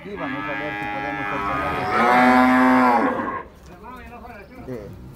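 Dairy cows at the Santa Rosa de Lima livestock market give a long, loud, close moo that swells in the middle before cutting off, followed by quieter background sounds and faint distant lowing.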